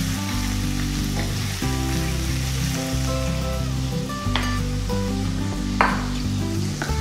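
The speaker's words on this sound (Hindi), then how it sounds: "हम डालेंगे इसमें मटर, हरे मटर, हरे मटर को थोड़ा देर भून लेते हैं हम।" Steady loud sizzle of green peas and peanuts roasting in a hot oiled pan for samosa filling, with occasional scrape and stir of a spoon and a continuous low hum, no voices.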